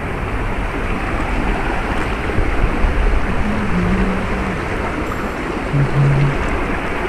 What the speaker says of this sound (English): Look at this beautiful little creek right here.